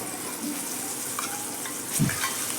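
Roasted green chilli thecha sautéing in oil in a pan: a continuous hissing sizzle with a few soft stirring knocks and a brief low thump toward the end.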